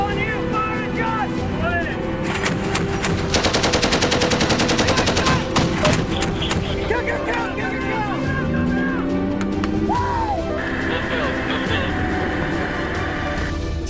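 Marines fire a machine gun during the annual Bushmaster Challenge competition, with a rapid, sharp burst of shots in the middle, surrounded by engine rumble, scattered outdoor noise and voices.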